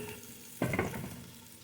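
Two whole heads of garlic hit hot oil in a pan with a sudden sizzle, then a steady crackling fry that slowly softens; close and moderately loud, with no talking.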